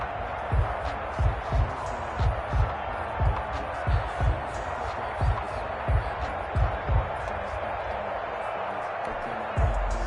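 A home crowd roars steadily in a football video game, a broad continuous din with rhythmic thumping beats recurring about every half second, while a commentator talks over it.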